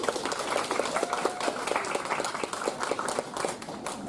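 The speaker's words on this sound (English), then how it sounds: "give yourselves a big round of applause" A concert audience at a mountain music festival benefit show claps steadily in a dense, even patter of many hands, with no pause or fade across the whole stretch.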